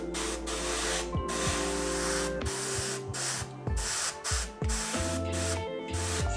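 Aerosol spray paint hisses onto a denim jacket in a series of short bursts separated by brief pauses, close and fairly quiet.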